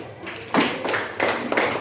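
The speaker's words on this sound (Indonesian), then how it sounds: "tepuk tangan untuk Malik" A classroom of students clapping for a classmate, a short burst of several claps that rises abruptly and continues close by, with a voice faintly present.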